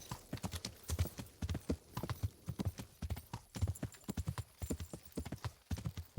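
Horse hooves clip-clop steadily in the medieval video game Kingdom Come Deliverance, a close, rhythmic walking gait of repeated dull thuds with no other prominent sounds.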